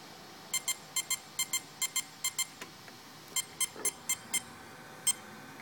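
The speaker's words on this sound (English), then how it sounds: "So that's five beeps and then one beep would be disabled." Mamba ESC emitting programming beeps: a pattern of short, sharp electronic tones, five beeps then a single beep, repeated in clean, evenly spaced clusters.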